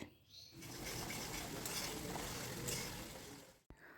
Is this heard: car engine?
no